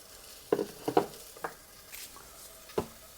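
Asparagus cooks in butter in a home kitchen, with a few scattered sizzles and soft clattering stirs against a quiet background, sparse and close.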